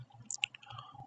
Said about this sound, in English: Once done, you have to type the following command, which you can find in the description.